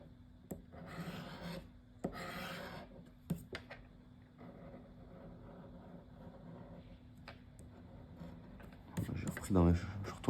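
Lottery scratch-card tickets are scraped in short gritty bursts close to the mic, quiet overall, with someone speaking French in between and over the scratching.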